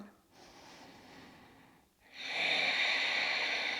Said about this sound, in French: On prend de longues respirations.